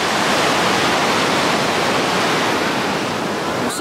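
Strong ocean waves break on a beach in a steady, loud roar of surf that fills the whole stretch without pause.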